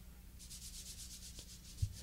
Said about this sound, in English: light sanding is done on the face